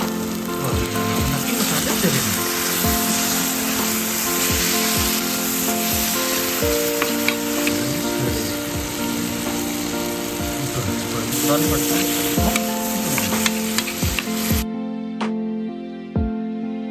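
Himachali Kangri rara chicken masala with meat masala sizzles steadily in a pan while a spoon scrapes and stirs in repeated strokes, loud and close, before the frying cuts off abruptly near the end.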